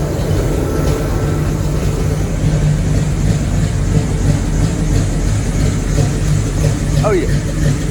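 A car engine idles loudly and steadily through a newly fitted exhaust at its first start, giving a deep continuous rumble with a voice speaking briefly over it.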